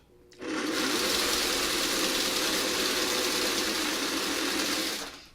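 A sewing machine stitches pieced fabric for quilt borders in one steady, loud, continuous run of about four and a half seconds. It starts and stops abruptly, with no talking.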